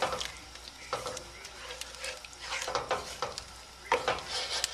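A spoon stirring ingredients in a sizzling pan during cooking, with soft steady frying hiss beneath intermittent scraping strokes that come in bursts over several seconds, fairly close and moderately quiet.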